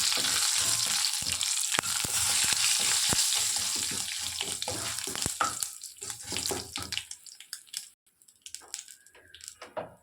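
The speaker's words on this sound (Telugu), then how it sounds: "పోపు వేగింది పొయ్యి ఆఫ్ చేసుకున్నాను" Steady loud sizzling of tempering spices with urad dal and crushed curry leaves frying in hot oil, with scattered pops and crackles, fading and thinning out toward the end as the stove is turned off.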